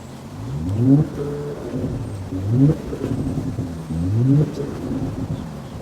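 A Porsche Panamera engine revs three times in quick succession, each rising pitch sweep falling back to a low idle rumble, close by.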